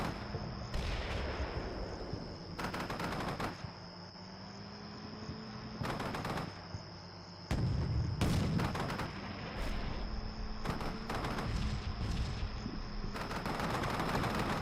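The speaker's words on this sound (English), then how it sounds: "we are laying down some nice artillery fire" Artillery fire in the Combat Mission: Shock Force 2 war game lands in repeated heavy booming bursts over a steady, insect-like background buzz.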